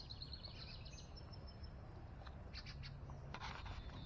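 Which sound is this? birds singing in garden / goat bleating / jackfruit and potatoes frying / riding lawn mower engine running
birds singing in garden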